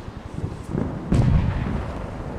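A grenade blast with gunfire in a World War 2 combat game on Android: scattered shots early on, then a louder explosive burst about halfway through, fairly low in level.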